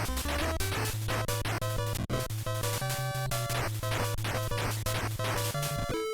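Busy 8-bit NES video game music plays continuously, with a driving bass line, quick melodic notes and crisp noise-channel percussion.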